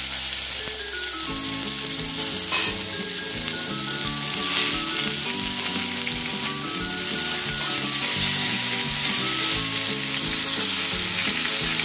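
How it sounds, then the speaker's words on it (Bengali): Potatoes and pointed gourd frying together in oil, a loud continuous crackling sizzle filling the whole stretch, with occasional soft stirring scrapes underneath. "এর মধ্যে আমি এবার আলুগুলোকে দিয়ে দেবো, দিয়ে একসঙ্গে ভেজে নেব।"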